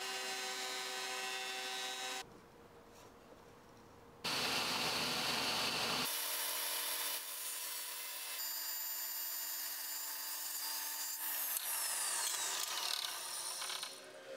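Maple trim strips for a lightweight painting frame are cut to size with a power saw, making a loud, steady mechanical whine in several distinct stretches broken by short changes in tone.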